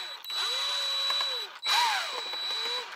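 A small power screwdriver whirs in two short runs with rising and falling pitch, removing screws from a MAXXFAN RV exhaust fan control board mounted in a plastic bezel.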